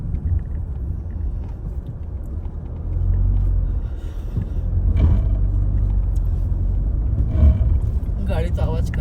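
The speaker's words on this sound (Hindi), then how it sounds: "गाड़ी तो आवाज कर रही है नीचे से।" A car driving a rough, broken mountain road in Himachal, making noise from underneath: a heavy low rumble that swells and stays loud, with bumps and knocks, while people talk inside.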